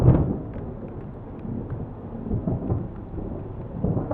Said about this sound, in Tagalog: Grabe yung kulog.